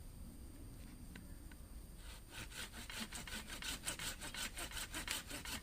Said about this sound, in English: we're going to tackle this 2+ inch branch with the Corona.